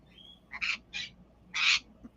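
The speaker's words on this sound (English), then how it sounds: "Blue is in there chirping a little bit, so she's doing a little talking" A pet bird in a home with other birds and dogs gives three short, bright chirps close by, spaced unevenly with quiet gaps between them.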